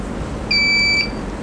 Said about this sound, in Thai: นี่คือเสียงเตือนเมื่อเวลาหมดนะคะ